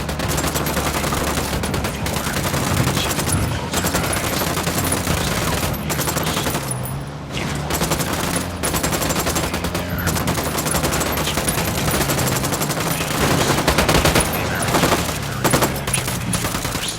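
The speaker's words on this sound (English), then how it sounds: "I'm opening fire." Sustained gunfire from Tom Clancy's Ghost Recon Wildlands on PS5, loud rapid automatic bursts rattling almost continuously with only a brief lull partway through, no talk over it.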